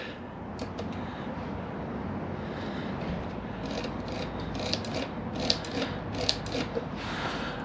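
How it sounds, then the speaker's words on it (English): An old KitchenAid stand mixer running with a continuous mechanical whir and rattle, interspersed with sharper clicking ticks, close and steady throughout without talk. "We're gonna double check this plug by connecting it to this prehistoric KitchenAid mixer"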